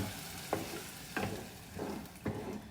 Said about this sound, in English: onions, pepper, and I've added a fresh chilli in there, nicely sizzling away